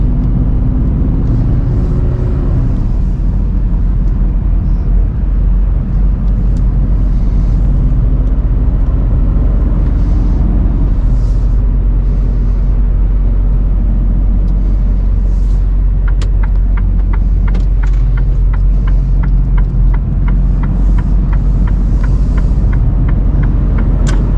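Car driving on the road toward Frankfurt, Brandenburg, heard from inside as a loud, constant low engine and road rumble, with occasional faint ticking sounds toward the end and no voices.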